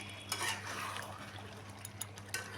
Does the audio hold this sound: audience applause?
no